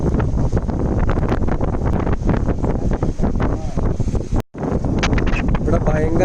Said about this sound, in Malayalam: ഇവിടെ ഭയങ്കര കാറ്റാണ്